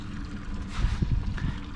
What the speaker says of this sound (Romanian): Să opresc și motorul.